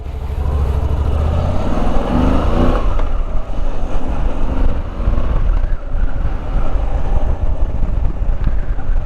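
A 2020 Moto Guzzi V85 TT adventure motorcycle lane splitting through traffic: a loud, close engine drone with a rising rev early on, steady road and wind roar throughout.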